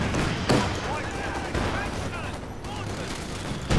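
Mortars fire in the video game Company of Heroes, with several sharp blasts landing amid steady background battle noise and a voice talking over the action.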